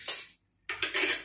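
A metal spoon stirring salt into liquid for lemon pickle, giving short scraping, clinking bursts against a container, close and fairly quiet, with a brief pause between strokes.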